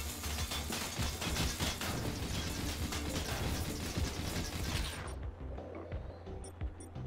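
Turret guns in a physics-based tower defense RTS game fire in a dense, continuous barrage of blasts and crashes for about five seconds, then cut off abruptly, leaving a quieter rumbling background.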